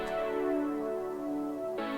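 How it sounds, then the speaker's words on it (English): A warm 80s Juno synth pad holds a sustained, lush chord, steady and moderately loud, with a brighter shift in tone right at the end. "So for the verses, we're just going to do like an 80s Juno pad"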